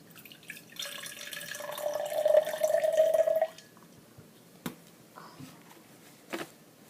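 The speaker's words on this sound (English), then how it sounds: "pour the water in" Water poured from a container into a cup for a home density experiment, a steady trickling pour of about a second and a half, fairly close, followed by a few faint taps and quiet handling.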